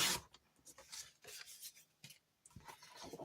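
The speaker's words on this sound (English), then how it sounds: "so I'm going to go ahead and trim this 6 1/2" Paper being trimmed to length on a paper trimmer for a card embellishment, heard as soft close rasping and rubbing strokes in short bursts with brief pauses, no talking.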